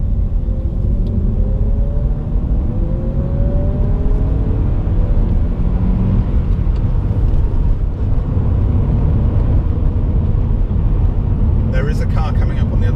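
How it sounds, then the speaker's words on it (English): Modified Japanese cars drive along a winding technical road, a constant low engine rumble and road drone throughout with passing engine tones rising and falling, heard from inside or near a moving vehicle, with a brief rattle near the end. "Now listen to the sounds of these cars."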